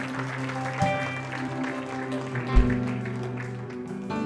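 A church congregation claps in praise during a Sunday morning service, the clapping scattered and moderate beneath sustained organ or keyboard tones, with a couple of louder accents along the way.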